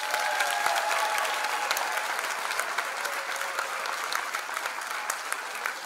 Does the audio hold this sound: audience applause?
yes